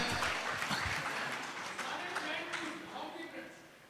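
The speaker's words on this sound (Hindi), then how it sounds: "चाहे तो इस पे ताली बजनी चाहिए" Audience applause at a talk with an advertising CEO, a steady burst of clapping that fades toward the end, with speech-like sound mixed in.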